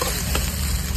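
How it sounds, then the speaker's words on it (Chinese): Egg fried rice made with eleven eggs is stirred in a small pan, producing a continuous dense sizzle with faint scraping beneath it, loud and close. "阿姨不停的搅拌啊"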